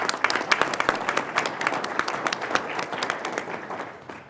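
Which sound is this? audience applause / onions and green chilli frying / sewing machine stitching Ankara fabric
audience applause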